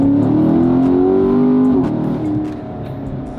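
A Chevrolet C7 Corvette engine pulls hard under acceleration, its pitch climbing steadily before dropping sharply at a gear shift and settling into a lower drone, heard loud from inside the car.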